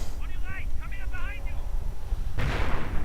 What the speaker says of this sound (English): Mortar rounds bombarding the area